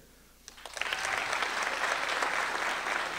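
A live audience at a spoken-word stage show answers a question with a round of applause, rising abruptly from quiet into sustained, full clapping from a large crowd.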